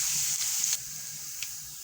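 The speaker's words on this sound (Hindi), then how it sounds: "और सबसे पहले हम इसमें लहसुन डालेंगे" Garlic sizzles steadily in hot oil for a tadka, a loud continuous frying hiss close by with a couple of brief crackles.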